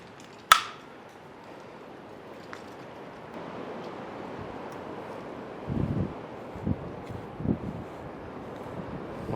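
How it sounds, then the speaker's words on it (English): Gusty wind blows outdoors around a neglected Humvee, making a steady broadband rush over the microphone. A sharp tap is heard early, then a few low buffeting gusts, and no one talks. "I don't know if y'all can hear all this wind or not."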